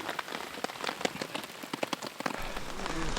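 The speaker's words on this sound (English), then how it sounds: "It is dumping rain." Heavy rain pours down during an opening-day elk hunt on a public-land ridge in Washington, a dense close patter with sharper drops striking nearby surfaces, steady with no talk.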